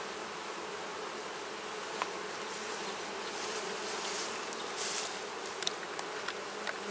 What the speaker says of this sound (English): Wow, look at how many bees there are. That's a lot of bees.